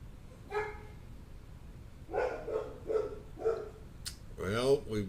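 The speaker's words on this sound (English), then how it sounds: "we've got the bark signal" A dog barks in short yips, one early and then a run of three or four quick barks, followed by a higher whiny cry, fairly close but not loud.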